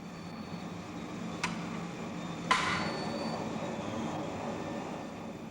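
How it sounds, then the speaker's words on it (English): A rolling mill cold-rolls a piece of aluminium, giving a steady mechanical rumble broken by two sharp metallic clanks, with no talking. "Now we'll cold roll a similar piece of the same aluminium."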